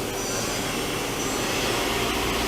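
Right spindle of a 2004 Nakamura-Tome WTS150 CNC lathe, fitted with a 6-inch chuck, spinning at high RPM, giving a steady, loud broadband whir with no talking.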